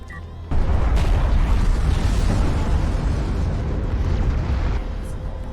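A missile barrage detonates in the strategy game Homeworld: Deserts of Kharak, a dense, rumbling series of booms and bursts lasting about five seconds.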